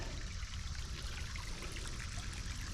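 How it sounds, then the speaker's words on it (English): Soft, continuous trickle of a cave spring's running water, a steady gentle flow heard close by with no voices. "this is the cave spring"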